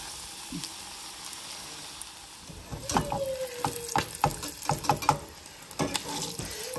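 Chicken pieces drop into a hot pan for fried rice and burst into loud sizzling a few seconds in, with clattering stirs and spatters continuing close up after a quiet start.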